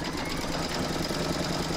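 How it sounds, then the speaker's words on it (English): Embroidery machine stitching a round on a hooped in-the-hoop Courthouse Steps log cabin quilt block coaster, a steady close mechanical whir with fast rapid needle chatter throughout, no voices. "Pop your hoop back into your machine and stitch round number four to secure it."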